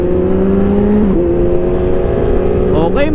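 Sport motorcycles on a breakfast group ride, including bikes like a ZH2, R1, Fireblade, Aprilia RSV4, Ducati and ZX6R, roaring past in a steady engine drone whose pitch shifts and climbs near the end as they go by.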